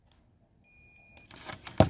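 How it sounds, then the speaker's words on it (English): A multimeter set to continuity gives one steady, clear electronic beep lasting about half a second, followed by some handling clicks and rustling. "I set my meter for continuity, and in this case, the one that has the little speaker audible output."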